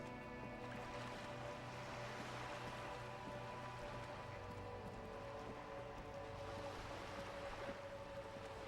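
Ocean waves wash steadily against the docks in Disco Elysium, a soft, continuous surf faint and distant beneath a low ambient hum, with no voices.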